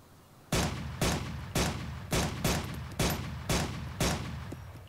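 Eight evenly spaced single gunshots from a rifle in the video game ARMA 2, each a loud crack with a short rumbling tail, fired at a steady rhythm of roughly one per half second.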